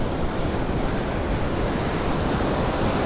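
Ocean surf rolling onto a wet sand beach on the southern Oregon coast, a steady close roar of breaking waves with some wind noise, continuous and loud throughout.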